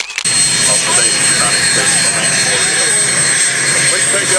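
A Lear 23 executive jet at an air show roars loudly and continuously, its broad engine noise and high whine filling the clip while a voice talks beneath it.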